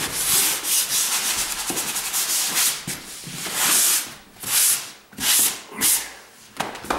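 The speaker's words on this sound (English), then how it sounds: "I had this here that I had to sand a little bit." Drywall edges are hand sanded with a sanding block, giving rough scraping strokes that come close and loud in uneven bursts, the rhythm breaking into separate swipes toward the end.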